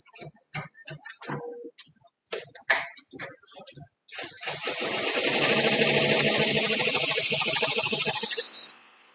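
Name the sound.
embroidery machine starting to stitch monogram on beach bag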